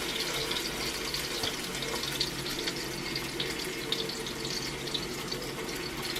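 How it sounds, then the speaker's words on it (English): Steak-Umms sizzle steadily in a frying pan, a dense, even hiss of frying that holds close and constant throughout with no speech over it. "Steak-Uums in the pan."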